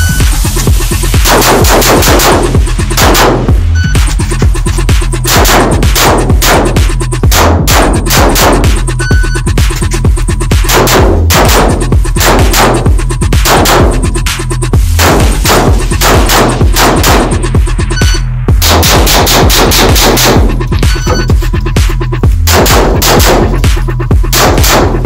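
Rapid pistol gunshots from a Fort 21.03 at a dark shooting range, loud sharp cracks in quick repeated bursts with brief pauses between strings of fire, no voices.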